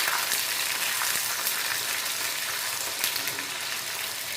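Curry leaves and spices fry in plenty of oil for a tomato pickle, a steady, close sizzling hiss running unbroken throughout with no voices.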